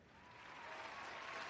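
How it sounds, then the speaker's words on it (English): Applause plays at a low level as a steady wash of clapping that holds without a break. "I've got the applause going right now for him."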